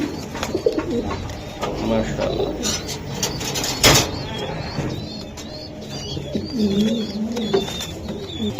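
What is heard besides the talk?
pigeons cooing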